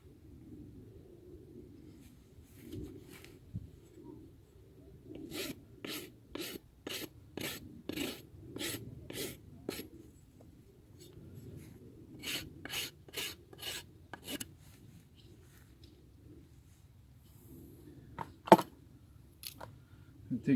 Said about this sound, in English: The file is very sharp.